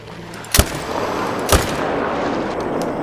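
Two sharp hunting-rifle shots in Call of the Wild, about a second apart, loud and close, each with a short booming tail over a steady outdoor ambience; no talking.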